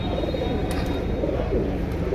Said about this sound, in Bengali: এটা পাঙ্খি লাইনের কবুতর